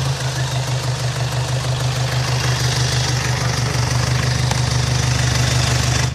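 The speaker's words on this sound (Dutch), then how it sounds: "Kunt u de motorkap even open doen en de motor laten lopen?" A car engine idles steadily with the hood open, a low, constant hum and faint mechanical chatter, close by, with no one speaking.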